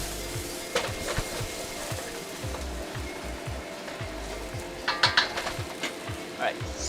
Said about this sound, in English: So this is my turkey going in.